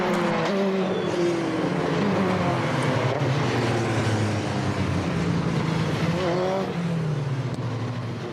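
Several race cars at Mondello Park pull away on a warm-up lap, engines droning loudly together with rising and falling revs as individual cars accelerate past, continuous and close throughout.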